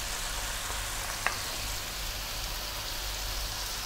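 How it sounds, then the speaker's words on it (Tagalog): Sliced onions sauté quietly in a pan for pork trotter adobo. A soft, even sizzle runs throughout, broken once by a small clink. "gisayin lang natin yung ating sibuyas"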